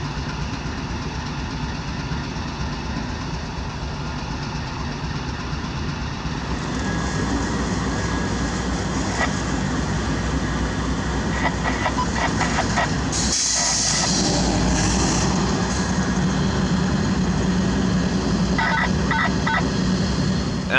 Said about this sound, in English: I arrived on the south end of CSX Yard and found a unit running engines light.